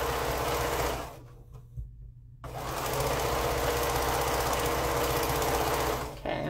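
A sewing machine stitches quilt pieces together in a steady, close mechanical whir, pausing briefly in the middle before running on continuously, with no voices.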